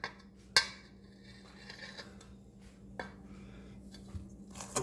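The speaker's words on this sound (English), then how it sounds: "Now I got to get all this off my spoon." Cake batter for a Duncan Hines Swiss chocolate cake being scraped off a spoon, with a few sharp clinks of utensil on bowl and soft scraping between them, close and fairly quiet.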